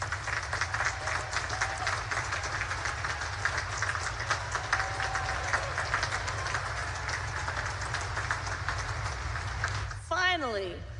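Sustained audience applause at a Naval Academy commencement ceremony honoring distinguished graduates, a steady dense wash of many hands clapping throughout, with a brief higher-pitched sound near the end.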